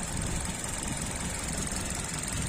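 A car engine runs at idle close by, giving a steady, even rumble with no talking over it.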